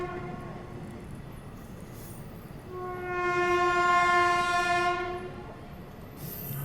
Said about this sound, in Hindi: बाकी हाथरस जंक्शन को हम स्किप करने वाले थे, पर ट्रेन यहाँ पे स्लो हो चुकी है।